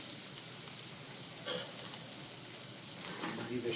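Shrimp sizzle steadily in a hot pan as they start to brown, a continuous frying hiss with a few brief louder pops and faint background voice.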